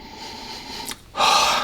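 A short, close sniff followed by a longer, deeper inhale through the nose, smelling whisky from a glass.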